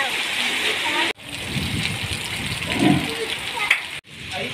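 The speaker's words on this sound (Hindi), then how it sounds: "बारिश जो बहुत ही ज़्यादा हो रही है" Heavy rain falls steadily as a continuous dense hiss and patter, close and fairly loud, with a voice faintly present beneath it.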